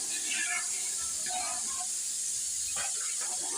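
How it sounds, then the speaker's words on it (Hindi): Milk poured into a hot pan while cooking Multan-style halwa gives a steady, close hissing sizzle that runs unbroken through the whole stretch. "आधा किलो दूध मैंने डाल दिया"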